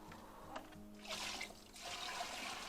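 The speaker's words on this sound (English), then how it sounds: "Now let's put the water back in and hope that the water covers it." Water poured back over a bucket of fermenting chicken feed, a close, rushing splash and trickle that surges in two or three waves.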